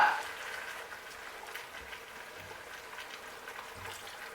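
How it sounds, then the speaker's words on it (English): Water pours into a cooking pot while Kwacoco and Banga soup is being made, a soft steady splashing rush that stays faint and continuous throughout with no talk. "Add water."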